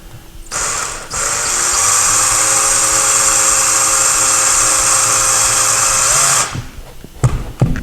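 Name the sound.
drill boring small pilot hole into wall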